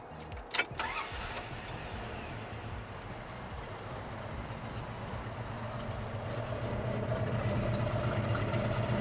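A 1972 Dodge Challenger with its original 340 V8 cranks and fires with a sharp catch, then settles into a steady, rumbling idle that grows slightly louder over several seconds, with no one talking.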